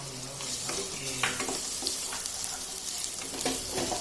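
Tomatoes frying in a pan for Khandeshi-style brinjal bharit, a steady low sizzle under scattered spoon scrapes and light taps, fairly quiet and close, no talking.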